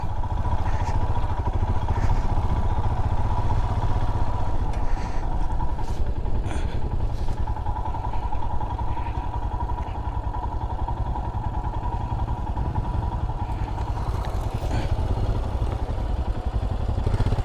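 A motorcycle engine runs steadily and close by for the whole stretch, a constant low rumble with clattering mechanical texture, heard on a forest road with no talk over it.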